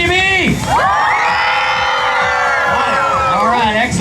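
A live dog-show audience cheers loudly for the blue team's dog, which wears a blue bandana. Sustained close whoops, shouts and children's yells swell into a continuous roar.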